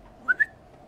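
Two short, bright whistle notes in quick succession, calling a character in the video game Gore, sounding clear and close against a quiet background.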